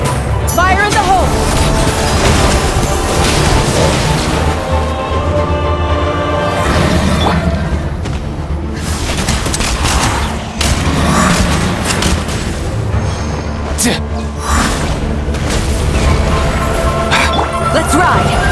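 Gunfire and explosions sound during a Genshin Impact battle in the Archon Quest, with loud continuous booms, crashes and shattering impacts piled together over a full, busy game soundtrack.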